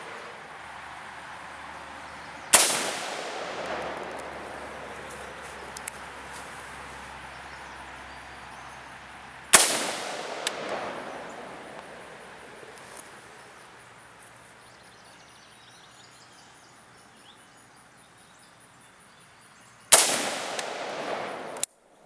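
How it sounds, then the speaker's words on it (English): Three sharp, loud rifle shots fired well apart while sighting in a Primary Arms 1x4x24 illuminated scope at targets around 50 yards, each crack followed by a long rolling echo that fades before the next. "Shot at the middle target, left-hand dot."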